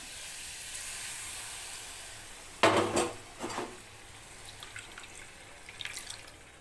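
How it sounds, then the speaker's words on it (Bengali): Water used to rinse a bowl poured out in a kitchen, a sudden splashing gush with a clink of the bowl, followed by a few smaller trickles and drips against a quiet background hiss. "দিচ্ছি বাটি ধোয়া জলটা"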